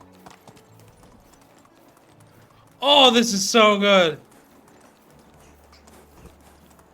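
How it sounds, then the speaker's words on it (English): Horse hooves clip-clopping at a fast pace in the Medieval Dynasty video game, a soft rhythmic patter under a man who briefly exclaims in the middle. "This horse is much more faster."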